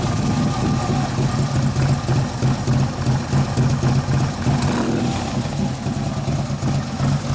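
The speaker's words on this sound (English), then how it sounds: "This is for the views that want to hear a fucking bike run." A Harley-Davidson Road Glide with a twin cam engine and newly installed camshafts runs steadily, giving a loud, continuous low rumble with a lumpy idle pulse throughout. Faint voices can be heard in the background.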